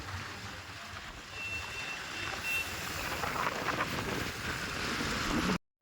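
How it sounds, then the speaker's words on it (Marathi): Trucks and other heavy vehicles crawl through traffic slowed by road works, making a continuous broad rumble with a faint tonal whine. The noise swells slightly toward the end, then drops out abruptly. "सर्व मोठ्या गाड्या आहेत ट्रक वगैरे आहेत"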